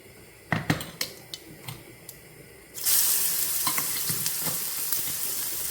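A few clinks of a utensil, then a loud burst of sizzling as ground spice paste hits hot oil, continuing steadily with occasional stirring scrapes.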